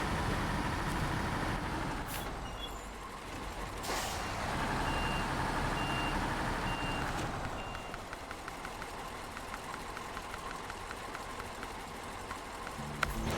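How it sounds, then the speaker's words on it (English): Reversing beeps from a repair truck in a tank combat video game sound as a steady run of evenly spaced high tones over a continuous engine rumble with a hiss of air brakes, loud and close. "My first repair truck."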